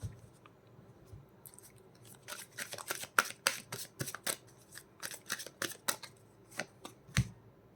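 Tarot cards shuffled and handled close up, a quiet run of crisp papery flicks and riffles in quick irregular bursts, no talking.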